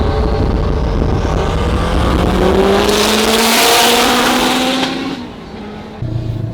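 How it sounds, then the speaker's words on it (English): A tuned 2022 Honda Civic Si on Yokohama tires makes a second-gear pull, its engine note rising loud and close under hard acceleration before cutting back sharply as the throttle lifts and the revs settle. "I just did a second gear pull and the traction control still kicked in pretty heavily"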